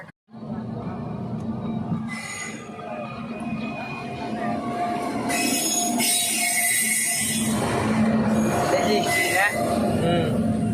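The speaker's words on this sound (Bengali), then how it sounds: "ট্রেন আসছে আমরা এটা খাড়া দিয়ে আছি" Train passing along a railway line near Bongaigaon, a loud, close, continuous rumble of wheels and cars growing stronger with metallic squeals, while people talk nearby.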